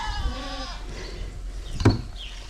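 A goat bleats with a wavering, nasal cry, followed by a short sharp knock and a fainter second bleat in the background.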